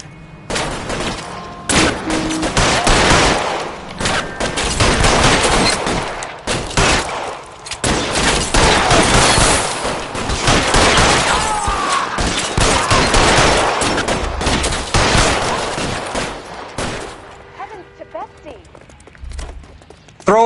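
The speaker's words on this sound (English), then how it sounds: "Fire a warning round." Gunfire in the crime video game LA Noire, with loud bursts of shots and rapid volleys running almost nonstop for about seventeen seconds before easing off, under voices.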